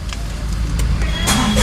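A Tata Punch car starts up and runs at close range, a steady engine rumble with a few brief higher bursts and a rising hum near the end, no talking over it.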